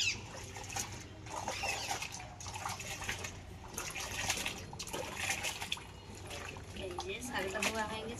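Leafy field greens, still gritty with sand, being washed by hand in water, with sloshing and dripping patter running steadily throughout while people talk nearby.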